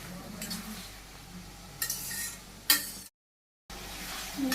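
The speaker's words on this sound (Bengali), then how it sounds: "আর একটু কষিয়ে নিন।" Bottle gourd sautéed with turmeric, chili powder and green chilies is stirred in a pan, giving soft scraping and clinking bursts over a low sizzle, with a brief silent gap near the end.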